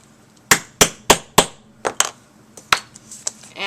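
Hammer blows setting a metal grommet in a journal, four quick loud metallic strikes followed by a few lighter, more scattered taps and clinks, close by with brief ringing tails.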